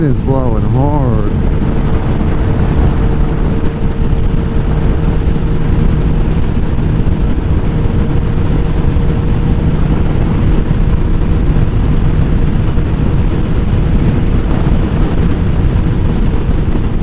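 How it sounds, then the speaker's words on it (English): Strong wind roars steadily across the microphone while riding a Kawasaki Ninja 1000SX, a loud, constant low rumble of buffeting air with engine drone beneath for the whole stretch, no talk. "Wind is blowing hard."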